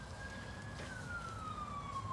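A faint siren wails in the distance, a single tone slowly falling in pitch over a low background rumble.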